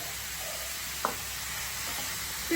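Carrot, green chili and peas for momos sauté in a pan with a constant close hiss of sizzling and one brief clink or stir partway through, with no talking.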